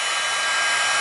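A heat gun set to 500 degrees blows steadily while heating plastic for a clear dome, giving a close, constant airy whoosh with no breaks or voices.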